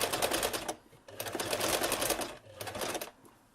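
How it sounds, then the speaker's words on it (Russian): Sewing machine stitching a kitchen potholder, a close, steady whirring and rapid needle chatter in three runs with brief pauses between them. "Делаем первый стежок и дальше уже строчим по нашей нарисованной линии."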